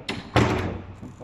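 A gym door in Dubai is pushed open, giving a light knock followed by a heavier, close thud that rings out briefly.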